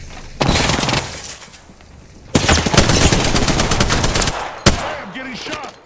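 Gunfire in the video game Apex Legends, with loud rapid automatic bursts in two long volleys and a later short burst, close and dominant over the game's background noise.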